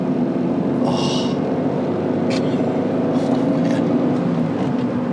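A 1991 Acura NSX driving under acceleration, its engine producing a steady, close drone with a low hum and a few brief higher-pitched bursts over continuous road and cabin noise.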